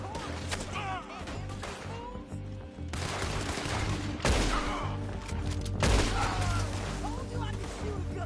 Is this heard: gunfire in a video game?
yes